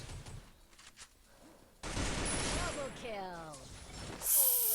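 Gunfire in the mobile battle-royale game Free Fire: a sudden dense burst of rapid shots and crashing impacts follows a quieter stretch, with game sound effects and a voice talking over it.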